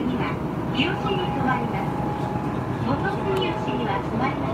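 A Japanese commuter train rolling toward Musashi-Kosugi station, a continuous rumbling hum inside the carriage with faint squeals, as people talk over it.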